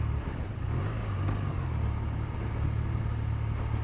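A 2024 BMW R12 NineT motorcycle engine burbles at a low, steady idle, a deep throbbing rumble that holds constant throughout.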